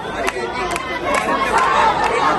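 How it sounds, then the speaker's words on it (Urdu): Crowd of women supporters of Tehreek-e-Insaf chanting political slogans outside the Supreme Court, a dense, steady mass of voices with sharp bursts rising over continuous crowd noise. "تحریک انصاف کی خواتین نعرے لگا رہے"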